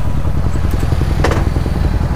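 Naked bike motorcycle engine idling close by on a road near Twin Falls in Cavinti, Laguna, a steady low pulsing throb with a couple of brief clattery ticks, no talking.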